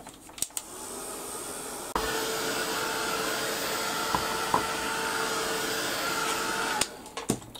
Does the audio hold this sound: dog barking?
no